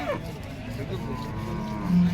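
A cow gives a low, drawn-out moo at a cattle market in Erode, Tamil Nadu, over a noisy outdoor background with faint voices.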